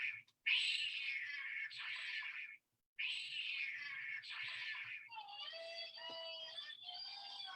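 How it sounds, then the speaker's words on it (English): A mother cat and her six kittens meow, with high, drawn-out cries repeating in quick succession, one longer call breaking after a brief gap, then thinner, overlapping mews from the kittens, close and clear with no talking. "6 kittens and their mother."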